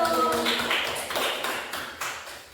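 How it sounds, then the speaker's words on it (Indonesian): Clapping from a class of peers for a group after its presentation, a burst of overlapping claps that starts while a voice is still speaking and then tapers off. "Tepuk tangan dulu untuk kelompok satu."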